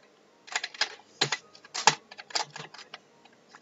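Code is typed on a computer keyboard during Flutter programming, quick irregular bursts of close, crisp key clicks with short pauses between them.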